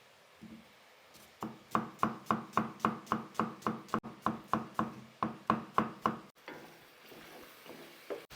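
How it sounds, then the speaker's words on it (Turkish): Rapid, steady knife chops through an onion on a cutting board, around twenty even strikes in a quick rhythm, close and clear, then stopping. "Tavuklar kavrulurken bir adet soğanımızı yemeklik doğrayacağız."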